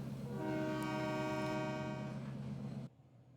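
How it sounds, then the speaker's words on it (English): A model railroad train sounds a sustained horn, a loud steady chord over low rumbling that holds for nearly three seconds before cutting off abruptly. "Now for Alan Alda, I think we can only take about half of this train with us"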